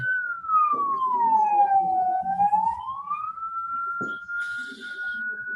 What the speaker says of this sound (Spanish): Va con la ambulancia ahora.